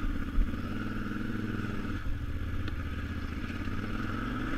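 A KTM 950 Adventure motorcycle rides down a narrow downhill mountain bike trail near Downieville, California, its engine a steady loud rumble with light clattering and a slight rise in revs.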